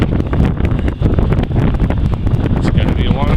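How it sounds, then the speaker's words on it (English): Strong gusting wind buffets the microphone on an exposed ridge of Mount Washington, a loud, turbulent roar with rapid rumbling bursts throughout. "Man, it's gotten a lot windier and a lot more exposed."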